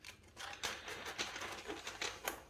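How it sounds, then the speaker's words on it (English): A quiet, crisp flutter of cards being riffled, a series of rapid papery snaps in short bursts, faint and close. "Riffle shuffle again."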